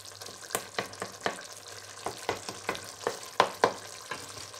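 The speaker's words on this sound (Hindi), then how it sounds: "गोश्त को अच्छी तरह भूनेंगे ताकि इसकी जो स्मेल है वो चली जाए।" Chicken meat frying with masala for biryani, loud close sizzling broken by a regular series of sharp scraping stirs of the spoon against the pot, about a dozen strokes in a steady rhythm.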